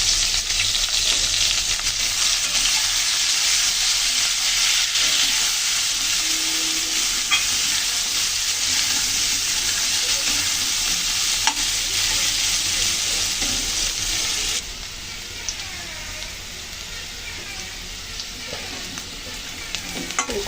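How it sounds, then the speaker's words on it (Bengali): Onions and taro corms with a little turmeric fry together in a pan, a loud continuous close sizzle with occasional stirring scrapes, dropping slightly in level partway through. "কচুরমুখির সাথে পেঁয়াজগুলো দিয়ে দিচ্ছি, একসাথে ভেজে নেবো সুন্দর করে।"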